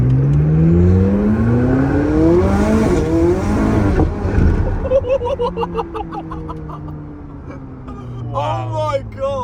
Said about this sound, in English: 720S engine in it, which is tuned to 900 horsepower, and we're going to test it out